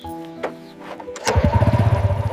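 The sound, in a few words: motorcycle engine starting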